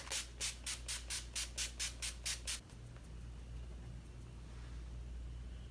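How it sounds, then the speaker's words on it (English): About ten quick hissing bursts of a spray mist pump in a steady rhythm, close and crisp, then a quiet low hum. "So first I'm going to spray my face."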